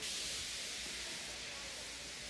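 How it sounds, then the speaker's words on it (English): A steam engine in the Roblox train game lets off steam feebly: a steady, even hiss that stays flat throughout with no other sounds. "He just let off steam feebly."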